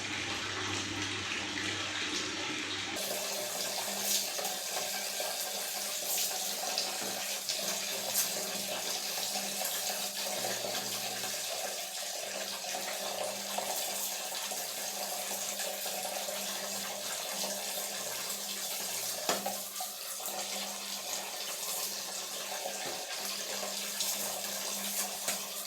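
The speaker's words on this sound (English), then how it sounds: "So I'm gonna just rinse it off with normal lukewarm water." Lukewarm tap water running steadily while rinsing conditioner out of hair, a continuous close hiss and splash lasting over twenty seconds after a brief different sound at the start.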